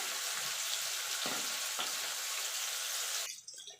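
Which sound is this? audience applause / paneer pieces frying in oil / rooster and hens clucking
paneer pieces frying in oil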